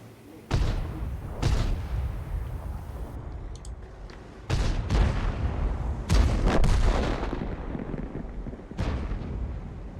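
Artillery fires shells in a series of about six heavy booms spread irregularly over ten seconds, two landing close together, each a sharp blast with a rumbling tail over continuous low background noise.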